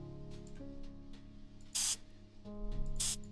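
In the video game Frog Detective 3, clue powder is sprayed in two short, sharp hissing bursts over light background music.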